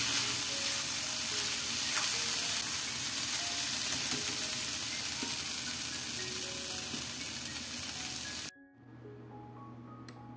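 Bean sprouts (togue) half-cooking in a pan as lumpia filling, a steady loud sizzle and hiss that carries on for most of the time, then cuts off abruptly near the end, leaving a low hum.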